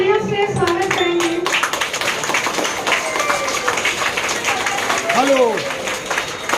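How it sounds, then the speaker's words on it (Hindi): A short burst of clapping from a crowd at a political party gathering sounds alongside amplified voices and some whistle-like tones. "तालियों से स्वागत करेंगे।"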